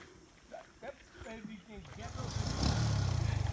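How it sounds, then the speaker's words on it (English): A motorbike engine approaches a broken bridge in Liberia and grows louder, its throbbing putter rising toward the end while voices talk over it. "You see the motorbike?"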